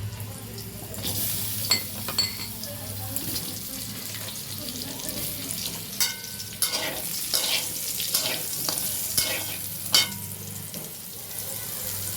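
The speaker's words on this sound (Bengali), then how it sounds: "আলুটাও আমরা একটু ভেজে নিলাম।" Potatoes with turmeric fry in a pan with a steady sizzling hiss, broken by several sharp clinks and scrapes of a utensil against the pan over a low background hum.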